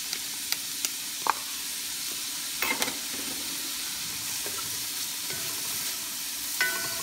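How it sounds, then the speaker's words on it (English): Garlic and red onions frying in a pan with a steady, fairly quiet sizzle, broken by a few brief clicks and stirring knocks. "Now let's add our garlic."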